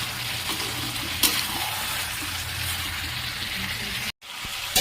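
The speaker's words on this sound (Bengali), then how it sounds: "আরও 5 মিনিট এটাকে আমি কষবো জল ছাড়া" Chicken sautéed in a pan without water alongside fried potatoes and salt, giving a steady close sizzle and hiss with occasional scraping stirs and a brief dropout near the end.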